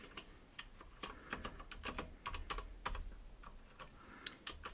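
Keys clatter on a computer keyboard as HTML code is typed into a box, a quick irregular run of close, crisp clicks with no voices.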